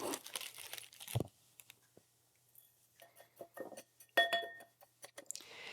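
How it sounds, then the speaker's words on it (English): A spoon scrapes and presses a charcoal layer inside a glass terrarium, giving scattered soft crunches, gritty scrapes and light glassy clinks, close and quiet with pauses between strokes. "I'm using the back of my spoon to compact that layer"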